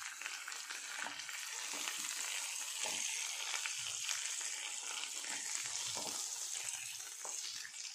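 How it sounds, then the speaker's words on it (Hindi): Tandoori chicken pieces fry in a hot pan on the stove as they are turned, giving a loud, steady, close-up sizzle with occasional stirring scrapes throughout. "चिकन हमारा अच्छे से कंप्लीटली गलने तक हम इसे ऐसे ही टर्न करते जाएंगे और पकाते जाएंगे।"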